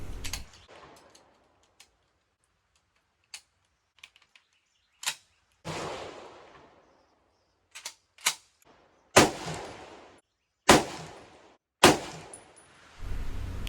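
Single shots from an M1 Garand rifle fired at a target on a range, coming as sharp, separate cracks at irregular intervals. Some shots sound fainter, and each louder crack leaves a short decaying echo, with no talking.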